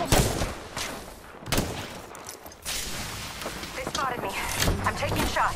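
Bursts of gunfire in the Apex Legends battle royale, several sharp volleys spread across the moment, with a voice speaking over the shooting.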